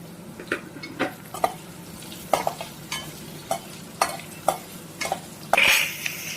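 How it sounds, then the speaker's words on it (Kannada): Chopped onions, cut into thick chunks, frying in oil in a pan, with a steady low sizzle under repeated sharp scrapes and clinks of a spoon against the pan, close by and fairly loud. "ಸೊ ಆನಿಯನ್ ಹಾಕ್ಕೊತಾ ಇದ್ದೀನಿ. ಆನಿಯನ್ನ ಸ್ವಲ್ಪ ಫ್ರೈ ಮಾಡ್ಕೊಬೇಕು."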